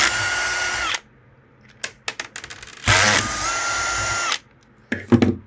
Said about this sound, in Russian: Первое действие, которое мы делаем, это берем старый блок, выкручиваем 4 винта